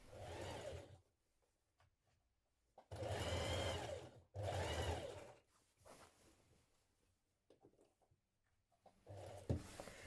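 A sewing machine stitches coat seams in bursts, with three or four runs of steady mechanical whirring separated by quiet pauses, close and clear.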